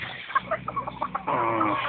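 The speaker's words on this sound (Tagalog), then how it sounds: "Tandang na." Rooster on a farm clucking in a few short, close bursts, followed by a steadier, louder stretch of fowl calling with a low voice underneath.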